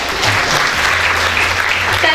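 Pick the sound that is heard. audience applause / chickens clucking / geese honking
audience applause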